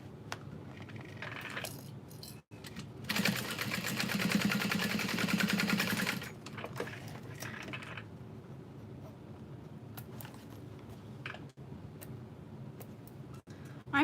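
A sewing machine stitches down one side of a piece being sewn, a steady whirring run of about three seconds that rises above quieter handling noises and light ticks.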